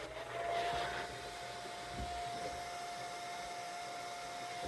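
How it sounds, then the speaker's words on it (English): A blower set on low hums steadily with an even airy whoosh and a thin constant whine, running on without pause and with no talking over it. "I'm just gonna have the blower on low for this."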